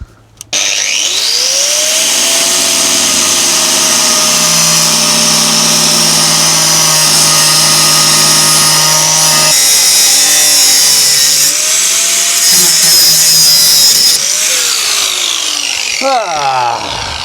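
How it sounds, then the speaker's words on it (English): A loud power tool cuts through a car's drop link on a car left parked on grass for five years, a continuous harsh grinding whine with shifting pitch that stops briefly and resumes before winding down. "I'm going to chop the drop link off as well."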